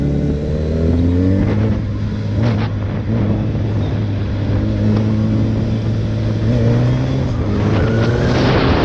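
A Suzuki Hayabusa motorcycle on its stock exhaust runs loud and close, its engine note rising and falling as the rider revs and rides, with no voices.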